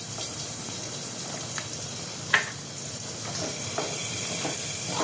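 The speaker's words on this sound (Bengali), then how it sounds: "এবার আমি চুই ঝালটা দিয়ে দেবো কষানোর মধ্যে।" Chui jhal pieces hitting mutton frying in a pan, a steady hiss and sizzle with a brief splattering burst and some stirring, close and fairly quiet.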